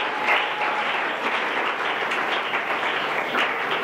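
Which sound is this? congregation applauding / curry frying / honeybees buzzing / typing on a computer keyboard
congregation applauding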